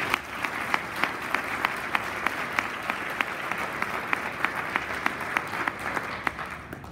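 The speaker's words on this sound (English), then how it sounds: "So let's give them one more round of applause." A college event audience applauds, steady clapping with sharp individual claps standing out, sustained and moderately distant through the whole stretch.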